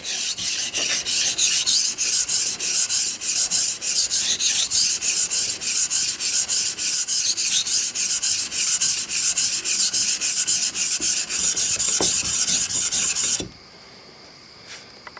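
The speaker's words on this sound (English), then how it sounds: "We want to drop this end down a little bit and sharpen it that way." A blade from a 1950s Record No. 4 hand plane is rubbed on a sharpening stone in fast, regular back-and-forth rasping strokes, close and loud, stopping abruptly near the end and leaving quiet.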